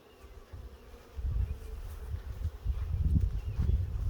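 Honeybees swarm around a hive during an inspection, their low buzzing hum swelling louder and denser partway through and staying steady and close to the end.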